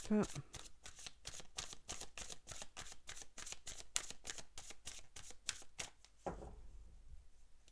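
Tarot cards shuffled rapidly by hand, making a fast, steady run of papery riffling clicks close to the listener. The run ends in a single louder snap as a card is drawn, followed by near silence.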